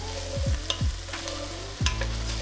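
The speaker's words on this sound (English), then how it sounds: "we will give these a nice stir" Zucchini and navy beans are stirred in a pot of vegetable minestrone, with several scraping sweeps and soft knocks over a low steady sizzle, close by.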